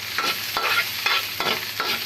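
Onions and garlic sauté in a pan, with a steady sizzle broken by rhythmic swishing stirs about every half second, close and fairly loud, with no talking.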